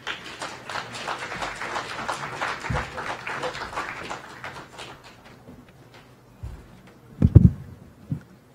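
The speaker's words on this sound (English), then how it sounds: "another round of applause" Audience applause at a live-streamed event after a speech, a broad dense patter of clapping that thins out midway, followed by a few louder thumps near the end.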